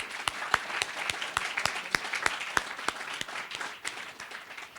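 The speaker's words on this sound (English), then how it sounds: "So please, a round of applause for all our veterans." A lecture audience at William & Mary applauds the veterans, with a crisp burst of scattered individual claps, fairly close and moderately loud, tapering slightly toward the end.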